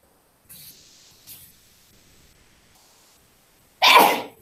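In a quiet classroom, a single sharp sneeze bursts out loud and close after a few soft rustles and faint background sounds.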